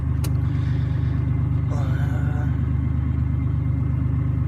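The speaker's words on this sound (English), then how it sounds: "so I guess we'll go for a little drive and see how much turbo noise we can pick up" A car with a leaky turbocharged V6 drives along, its engine a steady, close, rumbling drone throughout, with a faint rising whistle-like tone briefly appearing midway.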